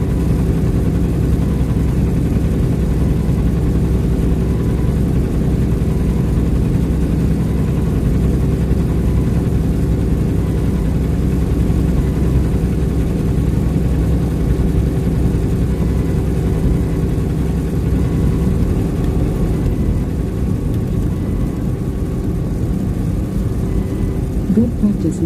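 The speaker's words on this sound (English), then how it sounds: "Good practice listening to the truck" Semi truck engine running steadily while driving from Green Bay toward Detroit, a constant low drone that fills the whole stretch with faint talk underneath.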